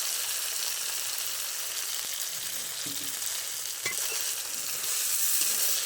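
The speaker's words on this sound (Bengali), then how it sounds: "এটা করে একবার নেড়ে নেব, বেশি নাড়বো না, নাহলে সর্ষে তিতো হয়ে যায় অনেক সময়।" Spice paste and mustard paste frying in hot oil while being stirred, a steady close sizzle with a few soft stirring scrapes, no talk.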